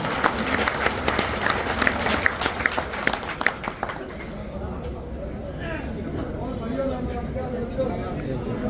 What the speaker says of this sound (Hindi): श्री कंवर सिंह यादव जी, जोरदार तालियों से आप स्वागत करें।